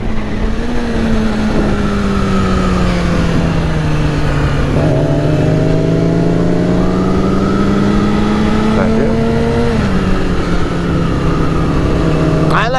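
Sport motorcycles, a Yamaha R6 and a 2001 Aprilia 1000, riding together over a bridge, loud close engine drone rising and falling through gear changes and revs, with voices talking over the roar.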